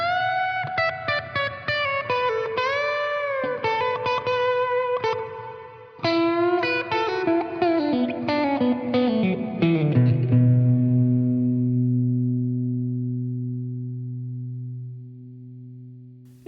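Electric guitar through amp modelling with mono reverb, playing a melodic phrase of sustained notes that ends on a long chord ringing out and slowly decaying.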